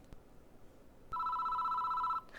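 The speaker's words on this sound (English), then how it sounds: "Calls won't stop, and it's getting on my nerves." Phone ringing in the horror video game Spirit Hunter NG: after a faint tick, one electronic ring tone sounds for about a second, clear but quiet, then stops, with no talking.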